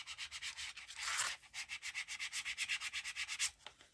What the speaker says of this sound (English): Sorry about the scraping noise.